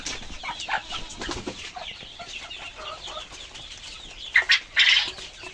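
Egg-laying quail on a small farm give soft, scattered clucks and chirps with bursts of wing flapping, a brief louder flurry near the end, all close and without any talking.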